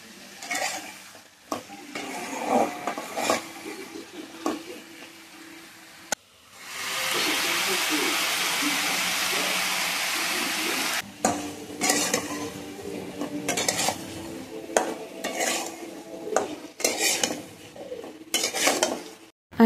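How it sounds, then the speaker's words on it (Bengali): Bottle gourd stir-fried in oil in a pan: spoon clatter and pan knocks, then a loud, steady sizzle for several seconds before the scraping and tapping resume. "আমি লাউটা দিয়ে দিলাম আর এখন আস্তে আস্তে করে ভালোভাবে কষিয়ে নেব"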